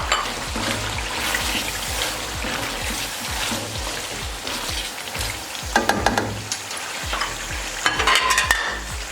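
Tomatoes frying and being stirred into chicken korma masala in a pan, a steady loud sizzle with rhythmic scraping stirs and wet bubbling throughout, no voices.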